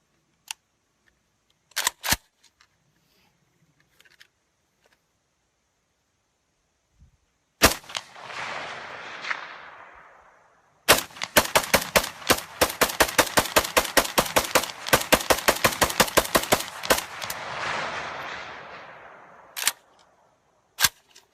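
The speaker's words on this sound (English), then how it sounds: "AK-47 open sights, targeted almost 300 meters." AK-47 with open sights firing at steel targets almost 300 meters away outdoors: a few isolated loud shots, then a rapid string of about twenty sharp cracks with echoing tails, ending in a couple of final shots.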